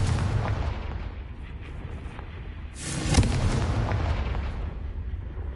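A Confringo fire spell explodes in Hogwarts Legacy, a deep rumbling boom that swells midway over a steady low roar, loud and close.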